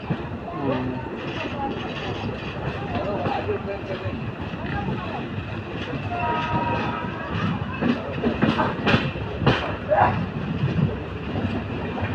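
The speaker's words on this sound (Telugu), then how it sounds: "సో అది వందే భారత్ అనుకుంటా." A Vande Bharat train rolling slowly through Vijayawada, a steady close rumble with faint rail clatter throughout, under people talking.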